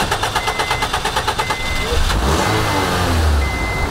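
An old, rusty car engine cranking and turning over, a rapid rhythmic chug from the starter followed by a rougher, louder churning roar, close by.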